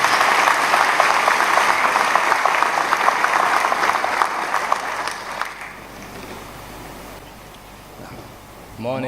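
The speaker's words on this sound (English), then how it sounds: "Can we give him a warm hand of applause as he comes?" Warm applause from mourners at a church funeral, dense and steady for about five seconds before thinning out and fading into quiet room noise.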